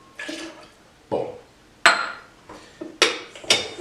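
A nor'easter cocktail of bourbon, maple syrup, ginger beer and fresh lime juice being swished and mixed, heard as about six short, close clinking and sloshing bursts spaced roughly half a second apart, with no talking.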